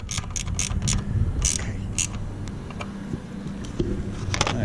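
An HD TV antenna is tightened down onto its base outdoors, giving bursts of ratcheting, clicking metal against steady wind noise.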